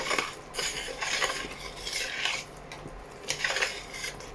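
A spoon scrapes and swirls through hot grape jam with lemon juice in a metal pot, giving soft repeated stirring strokes with light clinks against the sides, close and fairly quiet.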